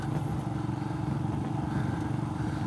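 A Royal Enfield Himalayan motorcycle with a sidecar rumbles steadily along a bumpy track toward Port Gawler, South Australia, its engine drone loud and continuous with light clatter from the rough surface.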